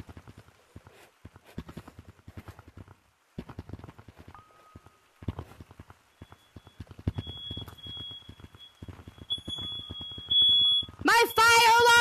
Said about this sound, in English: My fire alarm went off!